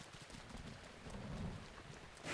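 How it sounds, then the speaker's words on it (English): A thunderstorm rolls through The Legend of Zelda: Breath of the Wild, with dense rain pattering over a swelling low thunder rumble that peaks midway, and no one speaking. "It had to be a thunderstorm."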